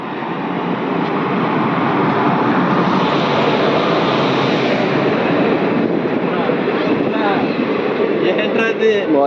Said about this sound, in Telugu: మొత్తానికి మన ట్రైన్ అయితే వచ్చేస్తుంది